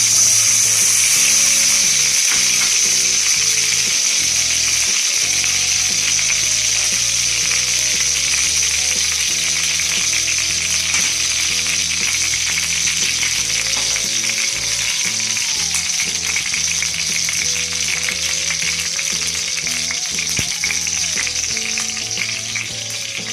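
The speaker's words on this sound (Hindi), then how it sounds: "तवा गर्म हो गया। अब मैं इसमें इसके ऊपर घी डाल, मैंने घी डाला है।" Ghee sizzles and fries steadily on a hot tawa for sweet French toast slices, a loud, continuous crackling hiss that stays close and unbroken throughout, with faint clinks of a utensil now and then and no talking.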